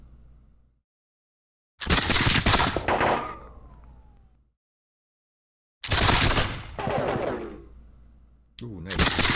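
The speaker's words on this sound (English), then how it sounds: "Morgan gave his officers and his militia troops orders to fire two volleys" Musket volleys from militia troops ring out in a video game battle at Cowpens, 1776: loud crackling bursts of massed gunfire, each rolling on for a couple of seconds before dying away, separated by silence, with a third burst beginning at the end.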